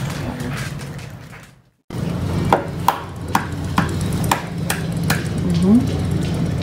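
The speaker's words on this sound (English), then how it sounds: "Crack our eggs now." Sharp knocks of eggs being cracked against a bowl in a home kitchen while baking banana bread muffins, several separate taps spread over a few seconds with steady background noise.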